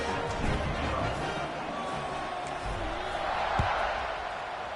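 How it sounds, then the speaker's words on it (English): Football stadium crowd buzzing around a kickoff after a score, a broad steady roar of many voices at a distance with occasional sharper bumps. "this crowd is buzzing"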